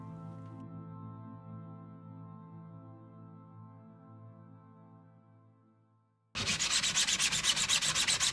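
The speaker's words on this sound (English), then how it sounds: "Now I'll sand the entire lantern in various grits of sandpaper" A 3D printed Minecraft lantern is sanded with sandpaper, a close, rhythmic scratchy rasp of quick back-and-forth strokes that starts abruptly after a long stretch of quiet, low tonal hum.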